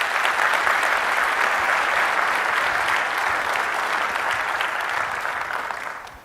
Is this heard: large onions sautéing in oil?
no